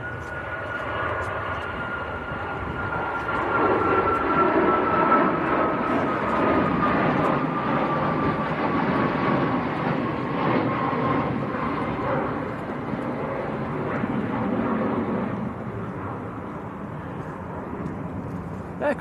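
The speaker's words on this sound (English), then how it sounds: "Aircraft on finals as well, Tom." A fixed-wing airliner on final approach to Manchester Airport roars steadily for the whole stretch, a broad engine rumble with a slowly falling whine, loud and close, while a man chats over it.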